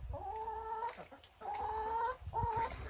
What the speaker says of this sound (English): the chickens like to spend the majority of their time outside.